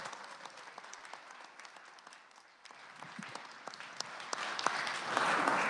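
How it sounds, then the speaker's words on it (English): Applause ripples through a senate chamber during proceedings, building from scattered claps into a fuller, louder round by the end, with some background crowd noise. "Mr. President and colleagues, please give Eric Stone a round of applause."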